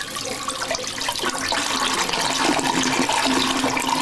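A toilet flushes loudly and close, a rushing gurgle of water that swells and keeps pouring for the whole stretch, heard on its own without any speech.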